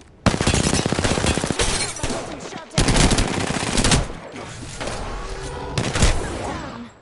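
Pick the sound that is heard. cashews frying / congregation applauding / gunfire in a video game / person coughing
gunfire in a video game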